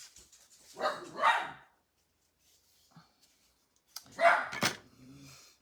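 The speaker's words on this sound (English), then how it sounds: "I heard a dog bark." A dog barks indoors in two short, fairly close bursts, separated by a quiet stretch with a faint tap.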